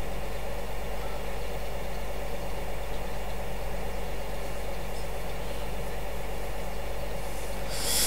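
A tractor engine runs steadily in Farming Simulator 2015, a loud continuous low drone with a heavy rumble that holds evenly from start to finish.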